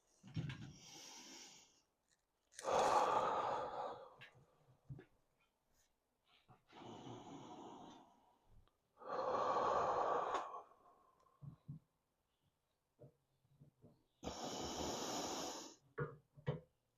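Deep, forceful breaths are taken in and let out as a lifter braces before a bench press, several long, close hissing inhales and exhales separated by short pauses.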